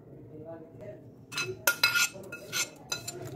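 Rice flour batter being mixed with a cooled tadka in a bowl, with a utensil scraping and clinking against the bowl in bursts over a low voice and background hum.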